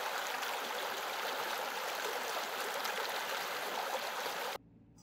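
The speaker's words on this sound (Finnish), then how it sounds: "Puron solina rauhoittaa." A brook babbles through a frozen winter stream in Lapland, a constant close, rushing trickle of water with steady intensity that cuts off abruptly near the end, no voices.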